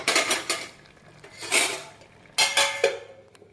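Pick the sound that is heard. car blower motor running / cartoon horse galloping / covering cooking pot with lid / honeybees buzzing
covering cooking pot with lid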